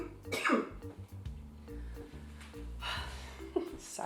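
A woman coughs several times while baking tiny buttermilk donuts and spraying Baker's Joy, the harsh bursts coming close with kitchen clatter and a steady hum beneath.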